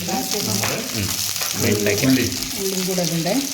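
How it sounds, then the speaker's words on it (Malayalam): Sliced okra frying in hot coconut oil, a continuous sizzle heard under people talking in Malayalam, fairly close. "വെണ്ടയ്ക്ക ഇടുന്നുണ്ട് വലുതാക്കി അരിഞ്ഞു"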